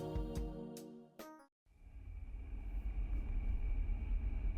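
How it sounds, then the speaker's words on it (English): In the video game Ocean Avenue, a car engine starts after a few musical tones and a brief silence, then settles into a low, steady rumble that builds gradually as the vehicle pulls away from a driveway. "Marcus starts the car and exits the driveway, heading towards the main thoroughfare of our hometown"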